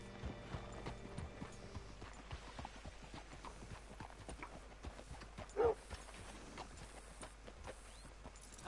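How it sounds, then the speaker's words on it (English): Horse hooves clip-clop at a slow walk in the video game Red Dead Redemption 2, quiet and fairly steady, with faint mechanical creaks and one brief louder knock near the end. "Hitch your horse up here."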